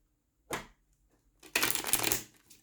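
Tarot cards being shuffled: a short riffle, a pause, then a longer, louder burst of rustling cards, close by and alone.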